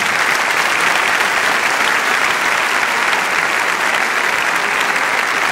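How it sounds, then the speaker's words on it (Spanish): Sustained applause from a large concert crowd at Auditorio Alfredo Kraus in 2006, loud and steady throughout with no pauses, dense clapping filling the whole stretch. "Ese aplauso para ellos"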